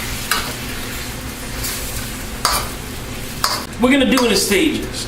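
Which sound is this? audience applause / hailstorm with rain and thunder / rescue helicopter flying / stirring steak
stirring steak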